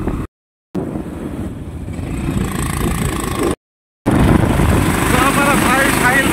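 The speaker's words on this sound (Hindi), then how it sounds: "तो है हमारा बाइक लाल परी, इसे लेके हम लोग जा रहा हूँ।" Motorcycle ridden up a hill road near the India–Bhutan border, its engine droning steadily under wind buffeting, with brief dropouts in the sound.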